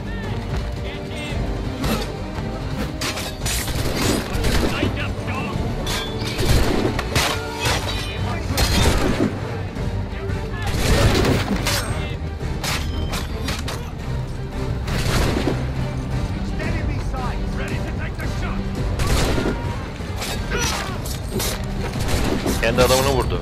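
Rapid bursts of gunfire and impacts in the video game Assassin's Creed 3, loud and dense, repeating irregularly over a busy mechanical and crashing combat mix, with a voice talking at times.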